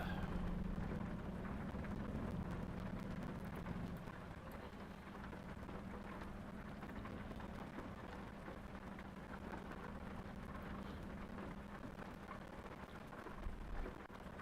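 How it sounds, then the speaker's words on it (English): Heavy rain pounds steadily on a vehicle travelling on a road trip toward California, a dense continuous wash with a low rumble underneath, even and unbroken throughout, with no voices. "It's raining heavier."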